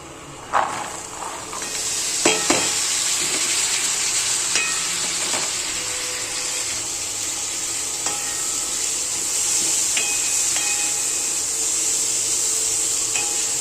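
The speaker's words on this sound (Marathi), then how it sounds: "आणि चणे पण तेलामध्ये ना चांगले भाजून द्यायचे" Chickpeas frying in hot oil with chilli powder, a loud, steady hiss and crackle up close, with occasional sharp pops and faint utensil clinks.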